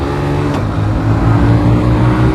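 Bajaj CT 110X and TVS Victor 110 commuter motorcycles drone loudly at a race start, a steady engine hum with a brief sharp click early on and a slight rise in pitch as they pull away.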